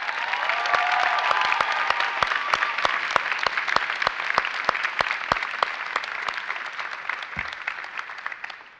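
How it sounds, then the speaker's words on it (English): Sustained audience applause fills a college convocation hall, dense steady clapping from a large crowd with sharp individual claps standing out, holding loud throughout before tapering slightly near the end. "I think a round of applause for all those gathered here and those that have supported you deserve a round of applause too."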